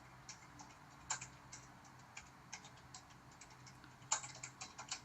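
Quiet, irregular keystrokes on a computer keyboard, clicking in short bursts with pauses, including a couple of sharper taps, alone without any talk.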